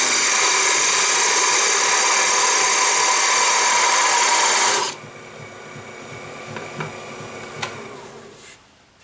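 A wood lathe turns a wooden glue spreader while a tool cuts a shallow center mark, giving a loud steady whirring scrape for about five seconds that stops abruptly, followed by quiet workshop clicks and light taps.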